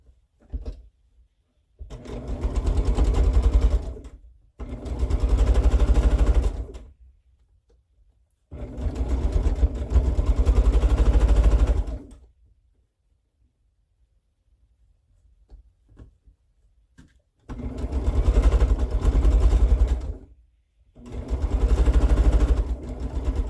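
A sewing machine stitches scrap pieces for a baby quilt in four separate bursts of a few seconds each, loud and close, with quiet pauses between runs.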